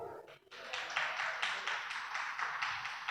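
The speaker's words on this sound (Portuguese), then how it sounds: "aplauda ao Senhor." Church congregation applauding at a Feast of Tabernacles service, a brief quiet gap giving way to a steady burst of many hands clapping in a rhythmic, pulsing wash, moderately distant and without talk.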